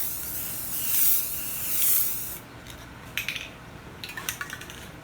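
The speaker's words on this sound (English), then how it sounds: "Now it's time to do the clear coat. Same thing as before. Just do a mist coat." A spray can misting clear coat onto S10 dash speaker parts: two short hissing bursts, then lighter clicks and taps of handling, close and fairly quiet.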